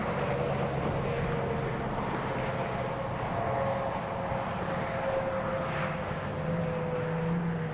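A SpaceX Falcon 9 rocket launch heard from far off near Bakersfield, a steady broad rumbling roar that holds evenly throughout with no voices over it.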